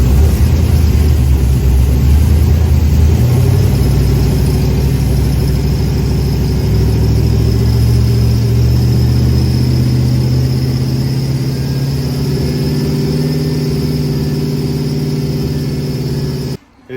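A freshly swapped, built LS V8 engine in a 1999 GMC Sonoma idles loudly and steadily, its pitch rising as it's revved up partway through, then holding at a higher rumble before cutting off abruptly.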